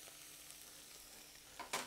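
Butter, onion and garlic fry in a pan with a soft, steady sizzle at low volume, then a brief stirring scrape near the end, with no talk.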